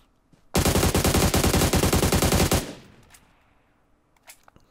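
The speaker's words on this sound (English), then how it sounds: "Gunshots." A sustained automatic weapon burst in PUBG Mobile, about two seconds of loud rapid-fire shots at a steady rhythm, then a fading tail with faint clicks and game sounds afterward.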